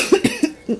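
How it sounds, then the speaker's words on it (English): A sick woman with the flu coughs into her shirt: four short, muffled coughs in quick succession, close and moderately loud. "I had to cough inside my shirt"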